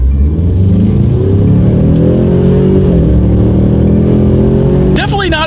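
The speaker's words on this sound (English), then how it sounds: "let's do a quick little acceleration test with the paddle shifters" A 2019 Ford Mustang EcoBoost accelerates hard through paddle-shifted gears, its loud engine drone climbing steadily in pitch, with a brief clatter right at the end and a voice talking along the way.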